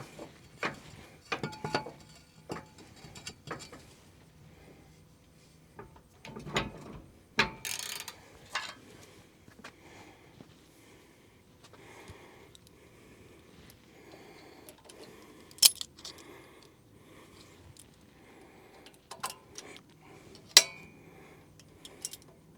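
Metal clips being pried from a Willys U-joint clamped in a U-joint vise, heard as scattered sharp metallic clicks, snaps and scrapes with short pauses between, fairly close and moderately quiet.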